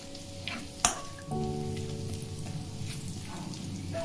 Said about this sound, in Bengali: এখন আমি এখানে আদা রসুন কুচিটাকে দিয়ে দেবো